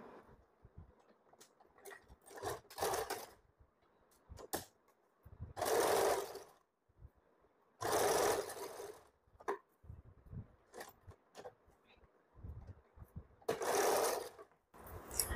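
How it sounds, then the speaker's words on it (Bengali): A sewing machine stitches fabric for an umbrella frock in short bursts of rapid mechanical whirring, separated by pauses filled with quiet handling clicks. The sound is close and clear, with no talking. "তো আমি এটা পিন করে ডাইরেক্ট এখান থেকে সেলাই করে নিচ্ছি"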